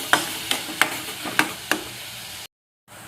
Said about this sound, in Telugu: ఈ నేతిలో వేసి పచ్చివాసన పోయేదాకా బాగా వేపుకోవాలి